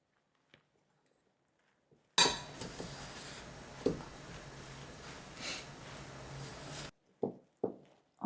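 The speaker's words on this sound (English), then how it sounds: "Let's stir now." A corn flour and all-purpose flour mixture is stirred in a bowl, giving about five seconds of scraping and clinking from a utensil against the vessel, fairly close, framed by quiet with a few short knocks afterward.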